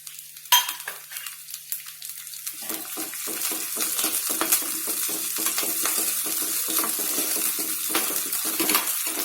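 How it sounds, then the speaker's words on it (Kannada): Coriander leaves frying in a pan, a bright continuous sizzle with repeated scraping and clinking of a spatula stirring close up; a sharp clatter comes first, then the sizzle builds and holds, with no talk. "ಇದನ್ನ ಸಪ್ರೇಟ್ ಆಗಿ ಫ್ರೈ ಮಾಡ್ಬಿಟ್ಟು ಹಾಕ್ತೀನಿ ಕೊತ್ತಂಬರಿ ಸೊಪ್ಪು"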